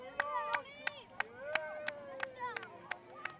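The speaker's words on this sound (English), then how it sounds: "Israelis applauding emergency service members" Israelis applauding emergency service crews fighting the remains of a large wildfire: about a dozen sharp, separate claps in a loose rhythm, with a voice talking underneath throughout.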